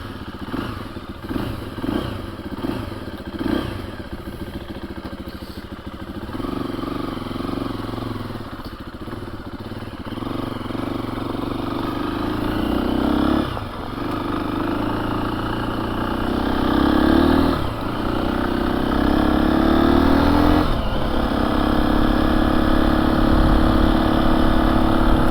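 A KTM 350 EXC-F dirt bike with freshly swapped sprockets pulls onto the road, a close single-cylinder engine clattering and thumping at first, then revving through several rising gear pulls that grow louder and steadier.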